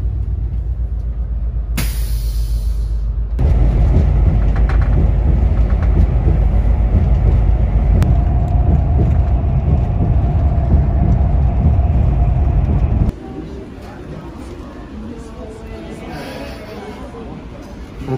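Steady, loud engine rumble and road drone from inside a moving city bus in New York City, continuous throughout, with a quieter, thinner stretch near the end and passenger chatter in the background.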